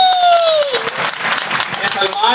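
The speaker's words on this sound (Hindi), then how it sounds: "एक बार जो आर्मी के जो लोग हैं उनके लिए जोरदार तालियां" A crowd at a motivational talk in Alwar claps loudly for army aspirants, a dense wash of applause with a rising whistle near the start and voices mixed in throughout.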